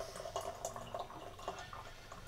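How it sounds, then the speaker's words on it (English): Hot apple and sage jelly is tipped from a saucepan through a canning funnel into a jar, giving a quiet, close trickle with soft dripping and splashing and no voice. "I can tip this straight out of the saucepan"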